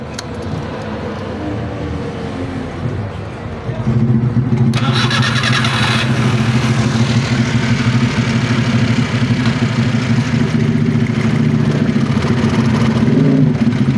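An engine cranks and catches, then settles into a loud, steady running drone with a low rumble that holds to the end.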